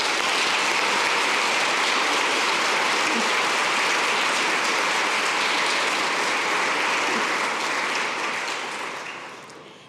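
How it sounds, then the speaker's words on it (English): Sustained applause from a crowd at an International Women's Day breakfast event, loud dense clapping that holds steady for several seconds before gradually fading at the end. "Can we please give them a round of applause?"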